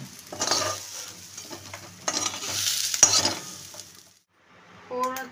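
Bay leaf and dried chili dropped into hot oil for tempering in a kadai, a steady sizzle with stirring scrapes for about four seconds, then a brief pause and a short clink of utensils.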